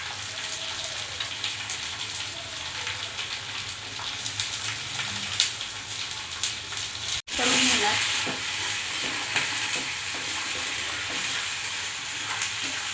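Sliced onion and a pinch of asafoetida sizzle loudly in hot oil in a pan, with a continuous crackling hiss, scraping stirs, and a sudden louder burst of frying partway through.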